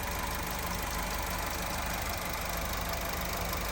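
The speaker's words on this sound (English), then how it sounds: "Very quiet engine." A Mitsubishi Eclipse Cross 1.5 petrol engine idles quietly and evenly at low volume, a smooth steady hum with no revving or talk.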